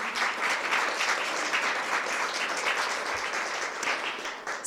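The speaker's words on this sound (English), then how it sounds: "Let's give them a round of applause." Sustained audience applause fills the room at a youth awards ceremony for teen peacemakers, a dense, steady wash of many hands clapping at even loudness throughout, with no talking over it.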